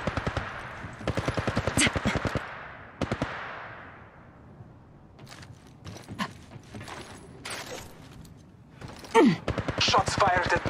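Automatic gunfire from the mobile battle-royale game Apex Legends Mobile rattles in rapid bursts separated by short gaps, with sharper single shots and game effects toward the end.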